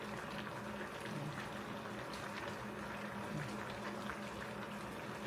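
A pot of bulanglang vegetables bubbles at a steady, gentle boil, a soft continuous churning close by with no talk over it.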